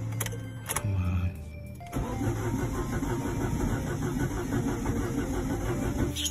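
A small engine that would not run gets cranked with a few sputtering tries, then catches and settles into a steady, fairly loud running drone after its throttle is adjusted.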